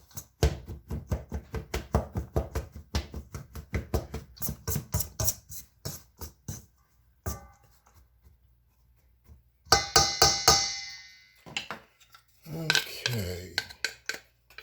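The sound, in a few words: knife chopping extra sharp cheddar cheese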